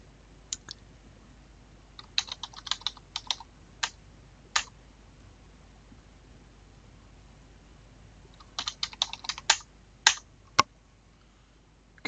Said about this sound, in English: Just type in a few more names here.